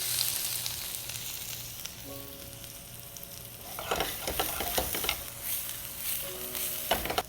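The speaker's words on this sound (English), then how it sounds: "I always like to flip the onions in a pan" Onions sizzle and crackle steadily in a hot pan, with louder bursts of frying and stirring toward the end over a faint background hum.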